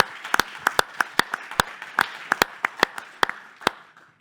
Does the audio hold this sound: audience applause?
yes